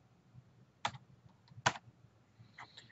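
A computer keyboard is typed on in a few sparse, crisp clicks, two distinct sharp keystrokes followed by a quicker light cluster, close and quiet with no talk.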